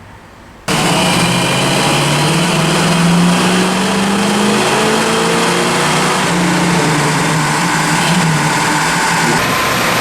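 A 1979 AMC AMX with a 304 V8 roars under load on a dyno, one loud continuous pull with rising pitch that holds steady for several seconds after an abrupt start.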